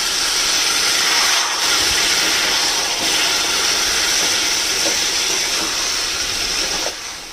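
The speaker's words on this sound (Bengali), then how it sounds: "দিয়ে এটাকে একটুখানি ফুটিয়ে নেব, তাতে পটলের মধ্যেও মশলাগুলো সব ঢুকবে।" Pointed gourd (potol) curry simmering with spices in a pan, a continuous close hiss and bubbling sizzle that holds steady and then drops slightly near the end.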